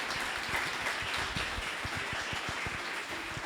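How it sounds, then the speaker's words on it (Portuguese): Audience applause at a talk event, a steady dense wash of many hands clapping at moderate distance, sustained throughout with no talk over it. "Luiz Humberto, França, quero pedir a salva de palmas de vocês."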